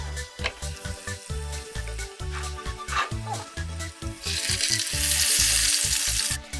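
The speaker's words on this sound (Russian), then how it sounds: "Жарим рыбу с обеих сторон" Stuffed crucian carp coated in flour sizzles and crackles in a frying pan, close and steady, with intermittent clattering and a louder burst of frying near the end.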